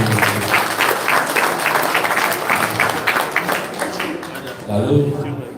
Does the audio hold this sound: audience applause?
yes